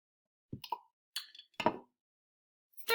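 Three tablespoons of warm water tipped into a container one after another for an elephant toothpaste mix land as short splashy plops spaced about half a second apart, close and alone against silence.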